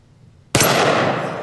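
A single loud gunshot from a Cyclops Thumper 50AE derringer pocket pistol fired at a steel target, a sharp close blast after silence that rings out with a long decaying tail.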